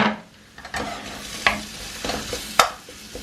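Chopped leeks frying in a pan for a courgette, leek and mozzarella pasta bake, a light sizzle broken by several sharp spatula scrapes and knocks at close range.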